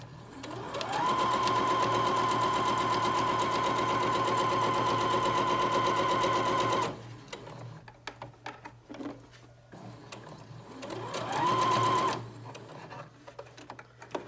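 Sewing machine stitching a fabric face mask, a fast, loud, steady mechanical whir running several seconds, stopping, then a second short burst after some soft handling noises.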